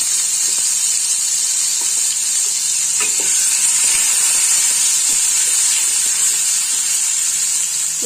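Poppy seeds dropped into hot oil with black cumin tempering, a loud, steady, dense sizzle and hiss that holds evenly throughout, close by with a few faint clicks and no voices.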